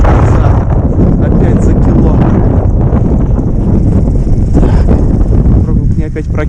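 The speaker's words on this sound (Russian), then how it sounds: "Жуткий ветер, если бы не ветер, можно было бы вообще хорошо половить." Strong, loud wind roars and buffets the microphone continuously on a frozen winter pike fishing outing, a steady broadband rush with gusty swells and a brief dip near the end.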